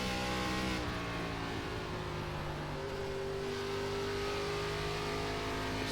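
ARCA Series stock car at full throttle on the Iowa oval in iRacing, a loud, steady engine roar with a rising pitch as it accelerates, continuous and up close with no break.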